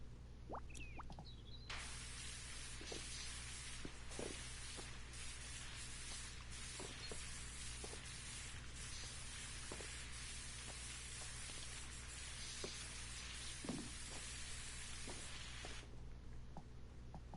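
Metal cleaner sprayed in a long, continuous hiss lasting about fourteen seconds, close and fairly quiet, with faint clicks and handling noises before and after.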